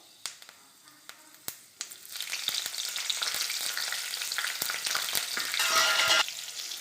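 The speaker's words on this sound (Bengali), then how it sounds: "ফোড়নটা ভাজা হয়ে গেলে এবার আমি কাঁচা লঙ্কাগুলো তেলের উপরে দিয়ে দেব।" A few sharp crackles and pops from spices tempering in oil, then green chillies hit the hot oil and a loud, steady sizzle rises and continues close up.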